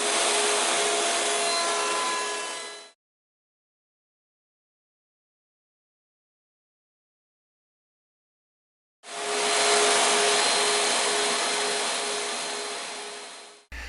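A wood board fed through a jointer, loud steady cutting roar that runs for a few seconds, falls silent, then starts again and slowly fades out, close by with no talking.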